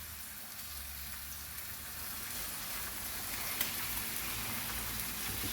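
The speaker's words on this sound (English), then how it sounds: "And carry on frying my bacon." Bacon rashers fry in a pan with a steady, dense crackling sizzle like rain, holding at a constant level for several seconds with no talking.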